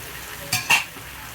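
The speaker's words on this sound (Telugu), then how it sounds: "ఇప్పుడైతే మనం సన్నగా కట్ చేసి పెట్టుకున్న టమాటా ముక్కలు అయితే వేసేస్తున్నాం" Thinly sliced tomato pieces go into a sizzling pan for drumstick curry, two quick sharp clatters and a brief surge of hiss over a quiet frying background.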